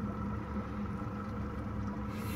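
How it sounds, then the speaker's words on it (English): A 2017 Robalo 226 Cayman boat's engine idles at 700 RPM, a steady low, even rumble that holds unchanged and fairly close for a couple of seconds with no voices over it. "Right now at idle,"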